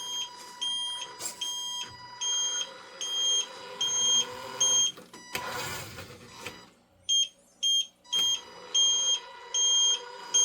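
A high electronic reversing beeper on a 1/14-scale 6x6 model lorry truck sounds in a steady repeating pattern of evenly spaced beeps, loud and close, briefly interrupted by a burst of noise midway.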